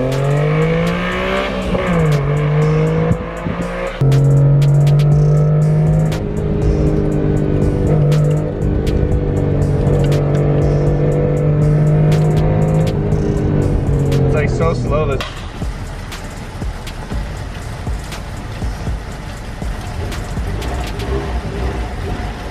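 Right-hand-drive Honda Beat, a tiny car with a motorcycle-derived engine, driving and revving: a loud steady engine drone rises and shifts with gear changes before dropping to quieter road noise, with a voice speaking over it at times.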